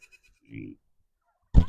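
Goats on a homestead bleating: a short bleat, then after a pause a louder, harsher bleat close by, with quiet gaps between.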